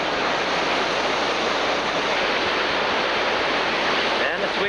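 River rapids pour over a steep ledge on a whitewater rafting run, a steady, loud, dense roar of rushing water that fills the scene without letup, heard up close.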